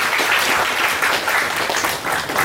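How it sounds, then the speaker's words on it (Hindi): An audience at an expert talk on investment and VC funding for early-stage entrepreneurs claps for a question, a dense, steady round of applause filling the whole stretch without voices. "पहले तो इस क्वेश्चन के लिए ताली बजाओ"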